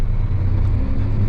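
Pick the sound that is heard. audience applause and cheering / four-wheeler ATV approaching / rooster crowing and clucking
four-wheeler ATV approaching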